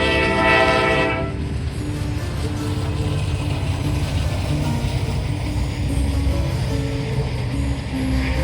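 An eastbound Norfolk Southern freight train passes, its horn sounding loudly for about a second before giving way to a steady, heavy rumble and rhythmic clatter of railcars rolling close by.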